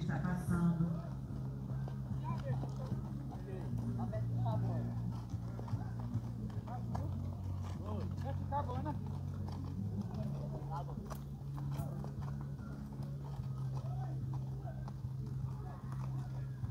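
Horses' hooves clip-clopping at a horse fair in Cachoeirinha, Pernambuco, a steady faint patter of hoofbeats under continuous talk and background crowd noise.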